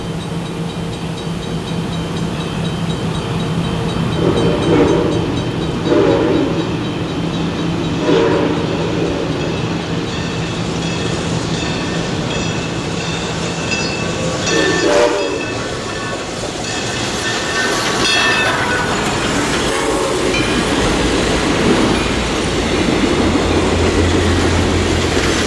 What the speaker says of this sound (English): Listen to the sound they made as they came back down through the sugar refinery.